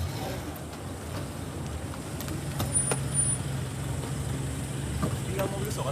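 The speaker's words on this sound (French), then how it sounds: "Ceux-ci s'y rendent dans leur nouveau véhicule de fonction." Official cars driving to a French Council of Ministers meeting on a Wednesday, steady road traffic with engine rumble and a brief high hiss, while a voice talks over it.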